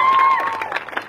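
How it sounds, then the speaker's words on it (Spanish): Children in Quinchía give a big round of applause at a holiday recreation event, a dense burst of clapping and crowd noise that thins into scattered claps, with a voice briefly over it. "Es un aplauso grande."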